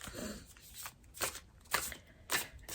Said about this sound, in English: So give these a good shuffle